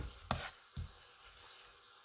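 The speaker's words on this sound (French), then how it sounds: "On va faire dorer les échalotes." Shallots fry in a pan with a soft, steady sizzle, broken by a couple of sharp stirring knocks near the start.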